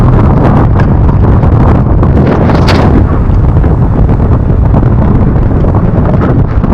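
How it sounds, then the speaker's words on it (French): Thunder from a lightning strike close by during a violent storm in Spain, a loud roaring rumble with cracking bursts around the middle, set against constant strong wind buffeting the microphone. "Et la foudre qui tombe juste à côté"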